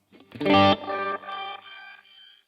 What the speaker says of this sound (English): you can hear that one note. It keeps rising in octaves per the delay setting